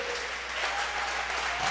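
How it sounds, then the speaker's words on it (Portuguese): A church congregation applauding during a Portuguese-language worship service: dense, even clapping from many people, moderately loud and continuous throughout. "dê uma salva de palmas para esse Deus"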